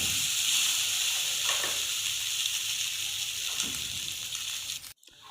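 Soaked sago mixed into a cooking pan for sago khichdi makes a steady sizzling hiss with a couple of soft stirring strokes, close and fairly loud, cutting off abruptly at the end.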